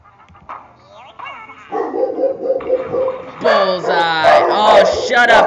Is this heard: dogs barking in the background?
yes